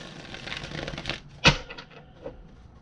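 Tarot cards being shuffled by hand during a reading, a run of riffling, flicking card sounds with a sharp slap near the middle and softer rustles after it.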